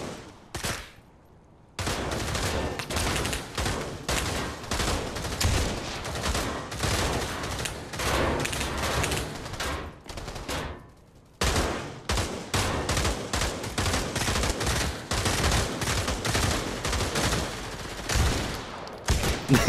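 Repeated shotgun blasts fire at long range in the VR game Pavlov Shack, a steady barrage of loud shots broken by a brief pause midway.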